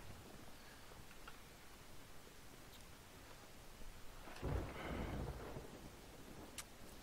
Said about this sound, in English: So it looks like the storm's coming in